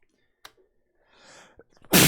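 A single sharp sneeze bursts out loud and close at the end, after a quiet stretch with faint rustles and a soft breathy intake, during a Pokémon card game session.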